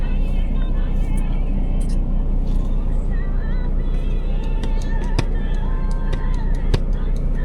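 A Mercedes E350 cruises on the freeway at night, giving a steady low road rumble and tire roar from inside the cabin, with a voice speaking over it.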